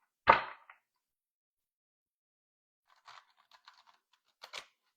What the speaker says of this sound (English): go ahead and do that while I'm shuffling